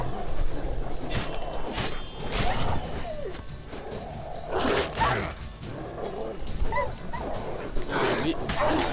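Dogs barking, yipping and whimpering in the video game The Witcher Wild Hunt, repeated bursts over a busy game soundscape, with someone talking over them.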